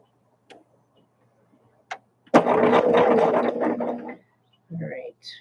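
Sewing machine stitching quilt seams, a close mechanical whir lasting about two seconds after a few light clicks, followed by a short voice.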